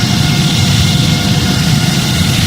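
Boeing 787-9 engines at takeoff thrust in the flight simulator game Project Flight, a loud, continuous, even engine roar with a heavy low rumble and no voices over it.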